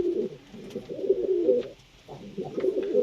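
Pigeons in a coop let out soft, rolling coos in close bursts, pausing briefly before resuming, with a quiet hiss of room tone behind them.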